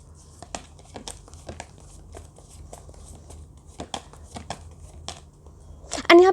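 A tarot card is drawn from a deck: soft card slides, light taps and papery rustles scattered sparsely and close, with a louder crinkle at the end.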